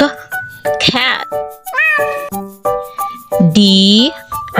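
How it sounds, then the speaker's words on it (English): A cat meows in several drawn-out, rising and falling calls, loud and close, mixed with brief chime-like tones from a children's alphabet song. "cat."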